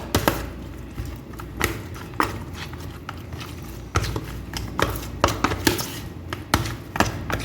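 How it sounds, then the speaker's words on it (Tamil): Chicken pieces are mixed with a butter chicken marinade in a bowl, producing repeated wet slaps, squelches and irregular taps of a spoon against the bowl, close and fairly quiet. "இப்போ நான் அதை நல்லா கலக்கிறேன்"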